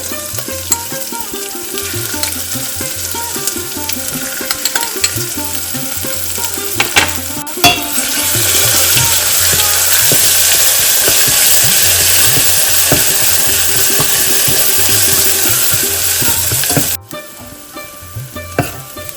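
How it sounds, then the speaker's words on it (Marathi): Ground masala paste frying in oil for Maharashtrian katachi aamti: a pan sizzles loudly, swelling into a dense, bright hiss once the paste goes in and dropping away sharply near the end, with stirring clatter throughout. "मसाला चांगला फ्राय करून घ्यायचा आहे तेल सुटेपर्यंत"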